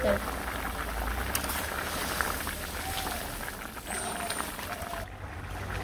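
A fish-head muri ghonto curry simmers after water is added, with a continuous bubbling boil close by and a voice speaking over it at times.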